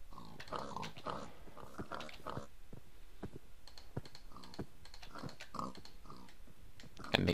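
Pigs oink in the Minecraft video game in short grunting bursts spread through the clip, along with rapid keyboard clicking.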